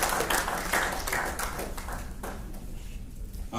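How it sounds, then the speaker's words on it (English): Applause from a lecture audience at an anniversary event, individual claps distinct at first and then thinning and fading toward the end, with no talk. "Please, a round of applause for him again."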